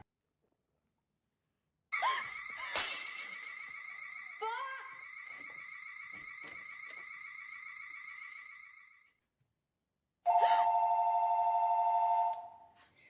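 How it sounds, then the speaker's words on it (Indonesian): Telephone ringing sound effect in a spooky house: a harsh trilling ring starts abruptly and rings for several seconds, then after a silent pause a second, brighter electronic ring follows, close and loud with no speech. "Lalu telepon pun berbunyi."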